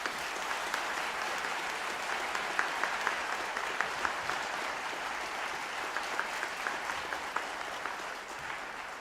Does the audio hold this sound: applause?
yes